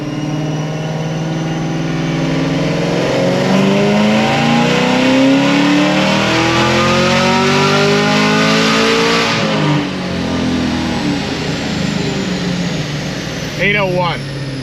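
Stage 3 sixth-generation Camaro ZL1 with about 800 rear-wheel horsepower on a dyno, running on 93 octane: its supercharged engine revs loudly and steadily up through the gears, then drops away, with people talking.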